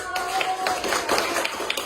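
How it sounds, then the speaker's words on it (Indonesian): A school class claps along during an Islamic jurisprudence (fiqh) lesson, a short burst of quick, scattered hand claps in a room with faint voices mixed in. "Tepuk tangan dong."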